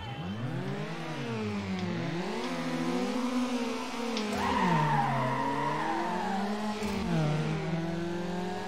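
Cars in the Need for Speed Underground racing game skid and slide, with shifting tire squeal and revving engine tones sweeping up and down continuously over the whole stretch, loud and close with no talking.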